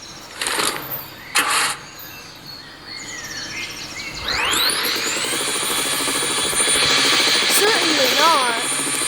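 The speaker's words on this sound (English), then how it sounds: "Guess it's time to go fly in my helicopter." A helicopter in a video game spools up with a rising whine that settles into a steady, loud rotor and engine drone, after a few brief earlier noises.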